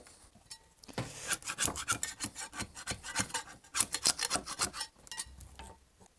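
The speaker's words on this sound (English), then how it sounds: "I need to strip off all this old veneer and clean it up, ready for the new stuff" Rapid rasping scrapes repeat in quick, uneven bursts, a close abrasive stripping of old wood veneer from a Jaguar car's trim that stops briefly and then resumes.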